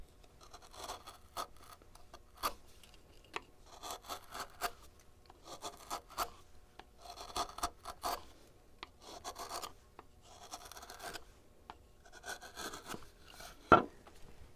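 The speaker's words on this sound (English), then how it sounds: "This is poplar, and I'm cutting cross grain, and this recently sharpened knife is getting nice clean cuts" A freshly sharpened carving knife slices cross grain through poplar wood in repeated short scraping strokes, close and fairly quiet, with a sharp knock near the end.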